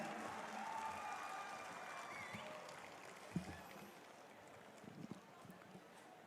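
An audience applauds at an official ceremony welcoming a government minister, in a faint, steady patter of many hands heard from a distance, with a few louder claps and some muffled voices.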